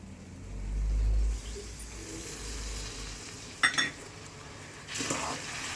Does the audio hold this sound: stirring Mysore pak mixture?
yes